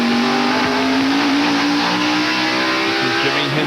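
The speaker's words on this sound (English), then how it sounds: "On the throttle, accelerating down the front straight away." A NASCAR race car at the 1993 Hanes 500 accelerating hard down the front straightaway, its engine note climbing steadily as a loud, continuous roar close to the in-car perspective.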